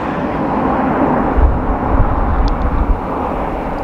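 An Aer Lingus airliner at Dublin Airport makes a quick stop, with a loud, steady engine roar close by, rising slightly midway and heard alone without talk.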